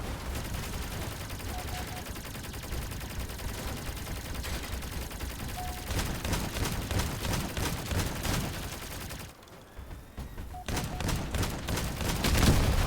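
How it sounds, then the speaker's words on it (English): Laser and shotgun fire from a vehicle in Crossout, aimed at an enemy cab, keeps up as a steady stream of rapid crackling shots over a rumbling engine. The firing grows denser and louder toward the end, broken by a short drop midway. "So if I use this laser, heat up the cab, and start hitting it with a shotgun"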